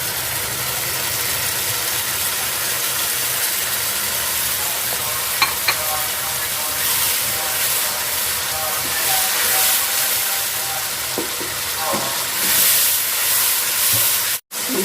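Tomato puree goes into onions frying in a pan for Lahori-style chicken karahi. A continuous sizzling hiss runs throughout, with occasional stirring scrapes and soft clicks and a sharp cut-off near the end.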